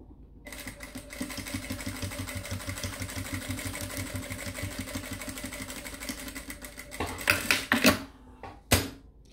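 A sewing machine stitching a fabric purse runs in a steady, rapid, close mechanical hum for several seconds, then stops, followed by a few sharp clicks and handling knocks.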